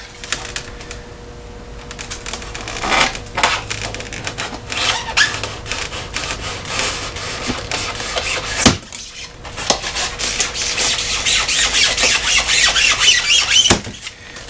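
Craft knife slicing through scenery material during a model railroad mountain build, a steady stream of scraping, ticking cuts that grows denser and louder toward the end, close up with no talking.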